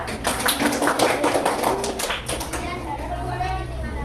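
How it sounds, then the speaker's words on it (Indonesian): Primary school class applauding a group of classmates, a scatter of quick hand claps and taps close by for a couple of seconds, fading out as voices carry on underneath. "tepuk tangan untuk kelompok 2"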